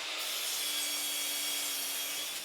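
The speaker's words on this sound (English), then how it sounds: "I start off by cutting down a rough sawn piece of ash" Hand saw cutting through a rough sawn ash board, a steady continuous rasping stroke held close and fairly quiet for the whole stretch, with no voices.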